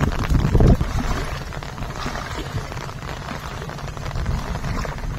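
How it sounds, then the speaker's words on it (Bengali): Heavy rain and storm in the Sundarbans make a steady, dense wash of noise after a louder gusty burst at the start, with no voices. "সেই সঙ্গে বৃষ্টির সহদার ভাই ঝড়ও একসঙ্গে মিলে তাণ্ডব করছে"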